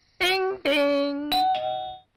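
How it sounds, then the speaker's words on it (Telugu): A house doorbell rings in a comedy film scene: three loud, close electronic chime tones, the middle one held longest, with no one speaking. "మరుసటి రోజు ఇంటికి వెళ్ళి కాలింగ్ బెల్ నొక్కా"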